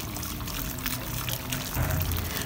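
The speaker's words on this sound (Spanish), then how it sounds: "ya tengo el agua caliente y la vamos a vaciar" Hot water is poured out in a steady stream that gurgles and shifts pitch partway through, heard up close with no one speaking.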